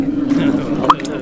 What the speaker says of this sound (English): jagged stone dripping with frozen water